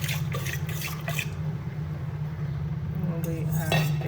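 Curd being mixed with salt and red chili powder in a bowl, with close, wet stirring and clinks of a spoon against the dish over a low steady hum.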